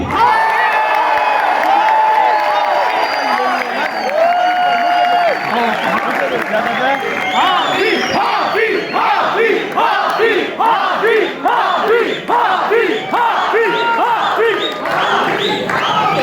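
A large mushaira audience at Quaid-e-Azam University in Islamabad applauds and cheers for poet Tehzeeb Hafi, a dense, loud, continuous wash of clapping, shouts and whoops filling the hall throughout.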